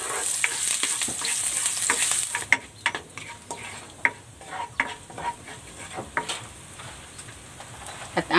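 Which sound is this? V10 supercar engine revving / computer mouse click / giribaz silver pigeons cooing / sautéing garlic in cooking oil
sautéing garlic in cooking oil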